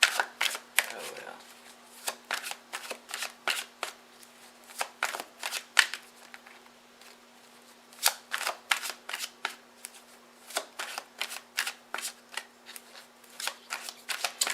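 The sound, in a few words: shuffling tarot cards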